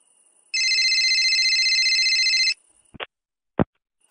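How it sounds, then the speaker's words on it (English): A telephone rings with one loud, steady electronic trill lasting about two seconds, then the handset is picked up with a couple of sharp clicks and knocks in an otherwise quiet room. "Phoning Tom's dad"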